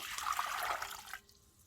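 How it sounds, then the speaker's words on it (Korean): Hot water is poured in a short, gurgling stream that runs for about a second and then cuts off, leaving a faint tail. "뜨거운 물을 부어주고"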